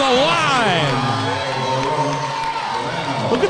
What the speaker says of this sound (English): Look at this Hill crowd. They came fired up today, this Hill crowd.